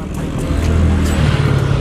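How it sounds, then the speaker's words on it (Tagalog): A car passes along a road in Taliplip, Bulacan, during a mountain bike ride: a loud, close engine rumble that holds steady and swells slightly as it goes by, with no talk over it. "Teka lang, may sasakyan."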